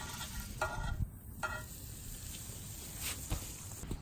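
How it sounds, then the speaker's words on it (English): Butter sizzles in a hot pan over a campfire, a soft steady hiss broken by a few scraping stirs, fairly quiet with no talking. "See how fast that butter sizzles?"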